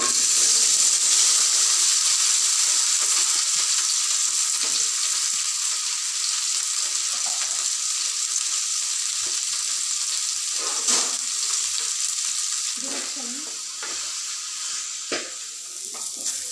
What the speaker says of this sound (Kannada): ಈಗ ಕಟ್ ಮಾಡಿ ಇಟ್ಕೊಂಡಿರುವಂತಹ ಬೆಂಡೆಕಾಯಿ ಏನಿದೆ ಅದನ್ನು